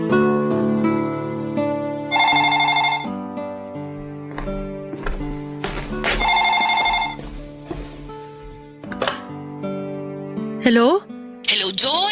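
A telephone rings with an incoming call, repeated loud electronic ringtone bursts with melodic tones, mixed with background music and voices.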